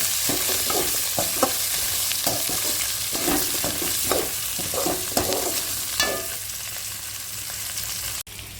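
Ivy gourd and garlic sauté in a pan with a steady, close sizzle broken by repeated scraping stirs, and no one speaks.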